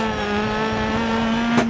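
Ford Focus rally car sliding on a stage in the DiRT 4 video game, its engine a loud, steady, close drone with a short extra burst just before the end.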